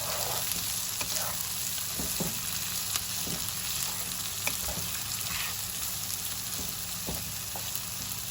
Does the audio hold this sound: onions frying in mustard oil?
yes